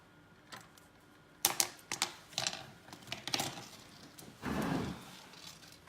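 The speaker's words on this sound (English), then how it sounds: "I'm just going to cut it with a pair of scissors." Scissors cutting through polystyrene craft material: a short series of sharp snips and crunchy clicks in irregular rhythm, close and fairly quiet, ending in a longer scraping cut.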